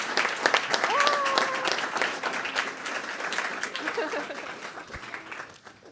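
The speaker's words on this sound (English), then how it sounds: "applause" Audience applause at a pitching competition award ceremony, a steady burst of clapping lasting several seconds with a brief voice briefly audible near the start, then gradually thinning out.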